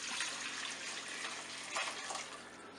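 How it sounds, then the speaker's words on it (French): Broth pours from a cooking pot into a salad bowl, a steady close splashing trickle with a couple of louder gushes, no talk over it. "je vais mettre le bouillon dans un saladier"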